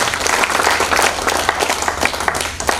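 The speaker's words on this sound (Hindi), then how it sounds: "एक बार इनके लिए भी जोरदार तालियां" Loud applause from the audience at a Hindi poetry organisation's event, a dense, continuous wash of many clapping hands sustained evenly throughout.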